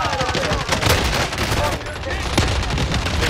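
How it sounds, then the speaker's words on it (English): Dense, rapid gunfire from the Call of Duty: Modern Warfare video game pours out in a continuous loud barrage of overlapping shots, with a few sharper cracks standing out near the end. "They're shooting up the stairs"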